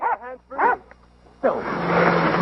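A dog barks in two harsh bursts during a violent attack on a person, followed by a loud, sustained noisy scuffle or rush of sound close by.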